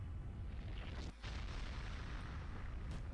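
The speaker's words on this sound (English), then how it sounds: "There's a lot less stone that there was before that explosion." An explosion in a video game booms as a heavy, deep rumbling blast, loud and sustained, with a brief dropout partway and a continuing low roar afterward.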